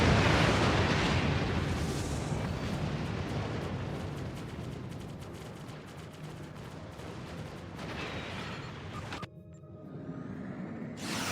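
A large explosion in the space combat game Star Trek Online: a sustained, loud roaring blast that rumbles on for several seconds, then cuts off near the end and gives way to quieter game ambience.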